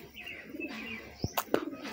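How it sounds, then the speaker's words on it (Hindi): Pigeons pecking at grain, with soft, close cooing and a few brief sharp taps near the end, all fairly quiet. "फिलहाल सभी कबूतर दाना चुन चुके हैं इधर अभी, और चुन रहे हैं इस साइड में।"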